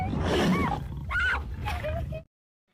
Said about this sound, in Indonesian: Ternyata Laleti sedang dihampiri seekor singa.